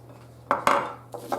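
An egg is mixed into lemon loaf batter in a bowl, giving a few sharp clinks of utensil against the bowl over a low steady hum, close and fairly quiet.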